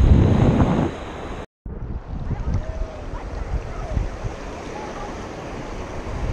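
Waves and wind at a beach, a steady rushing surf with heavy wind buffeting the microphone, loud at first and then settling to a constant roar after a brief dropout.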